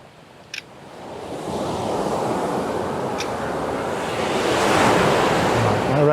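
Ocean surf rolls and breaks on a shoreline, a broad continuous wash of waves that builds louder toward the end, with gusts of wind buffeting the microphone.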